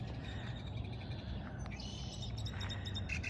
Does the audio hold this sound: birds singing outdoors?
yes